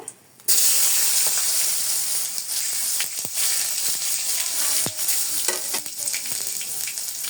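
Turmeric and tomato sizzle loudly in a hot pan, a dense continuous crackle right up close that kicks in suddenly after a brief quiet moment, with occasional scrapes and clinks of stirring.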